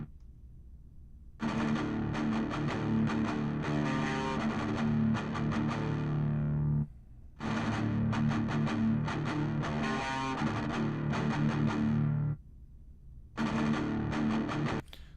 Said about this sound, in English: I want to shape the guitar a little bit, kind of give it its own new tone with the compressor